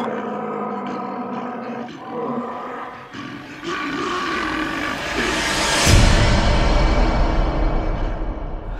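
A huge wolf growls and roars in a storybook sound effect, a deep, swelling snarl that builds louder toward the end over a soft musical backing.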